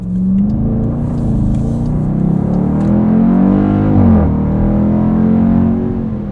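A 2020 Dodge Durango SRT V8 pulls hard in eco mode, its loud, steady engine drone rising smoothly in pitch, dipping briefly at a shift and then climbing again, heard up close from inside the cabin with no talking.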